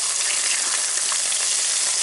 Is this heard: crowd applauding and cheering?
no